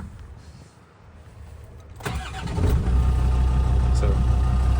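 A 1998 Land Rover Defender 90 with a performance-built Td5 diesel engine cranks and fires after a quiet stretch, then settles into a steady loud rumble with people talking nearby.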